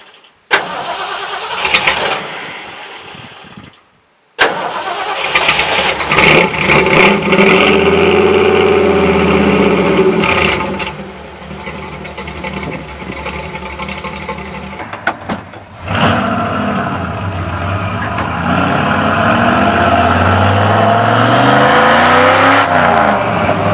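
An old Ford F100 pickup starts from cold, with cranking and a catch after a short silence, then revs and settles into a loud, uneven idle with a few throttle blips, close and without voices.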